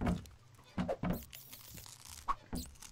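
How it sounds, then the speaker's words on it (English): Munching noises in a spider-fighting video game: a series of wet, crunchy chewing bursts in an uneven rhythm, close and moderately quiet. "Man, I don't like the munching noises"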